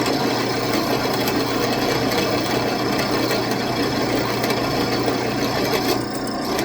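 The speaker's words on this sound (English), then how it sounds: "We do not want that drill bit getting hot." A drill bit bores into metal with lubricant applied, giving a steady, loud grinding whir that runs without a break from start to finish.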